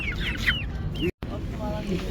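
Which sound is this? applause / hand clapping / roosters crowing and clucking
roosters crowing and clucking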